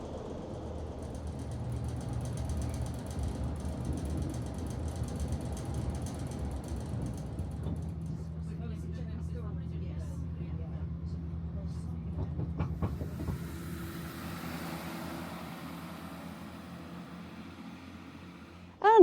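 Steady low rumble inside a Class 165 Networker diesel train, engine drone and rattling carriage noise, shifting in tone midway as the train slows.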